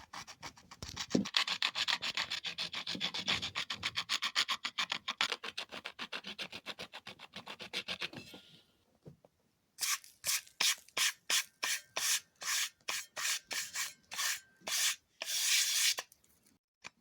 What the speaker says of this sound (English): I'll start by scraping the old glue off the edge of the first cone.